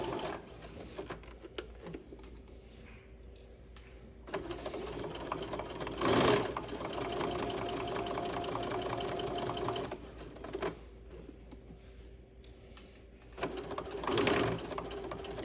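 A sewing machine stitches slowly along the line of a welt pocket, running as a steady mechanical whir that pauses briefly and changes pace now and then, close by and with no talking.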